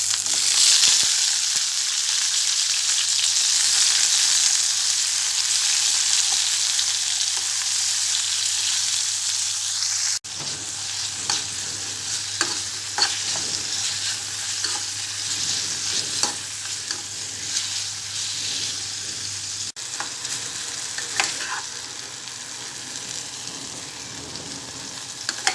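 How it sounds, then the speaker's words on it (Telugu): Tomatoes frying in the same oil used for green chillies, a loud bright sizzle that settles into a softer crackle with repeated spatula scrapes and taps in the second half; no one speaks. "పచ్చిమిరపకాయలు ఫ్రై చేసుకున్న ఇదే ఆయిల్లో టమాటాలు ఫ్రై చేసుకోవాలి."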